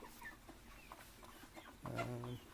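Broiler chickens resting on a small farm of about 150 birds after feeding, clucking softly and intermittently at close range, with a louder burst of clucks near the end over a faint background voice.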